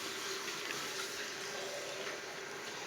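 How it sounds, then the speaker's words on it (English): Kefir grains rinsed under a running kitchen tap, a steady close hiss and splash of flowing water over the sieve, continuous and even with no talk. "I'll wash them under some tap water."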